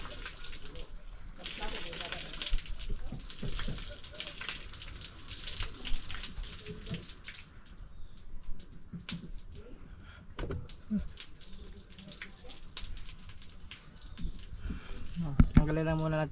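Water pours and splashes out of a cooking pot in a steady gushing stream, with someone talking over it and clattering pot sounds near the end.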